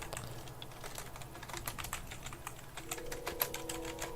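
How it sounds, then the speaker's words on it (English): Quick bursts of clicking on a computer keyboard fill the room, steady uneven taps close up with no talking over them. "So glad you guys can't see my typing skills"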